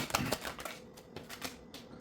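Three decks of tarot cards shuffled together, making quiet, quick riffling bursts that come in an uneven rhythm, soft and close.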